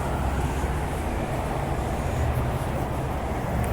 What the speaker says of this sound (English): Oh, a train's coming.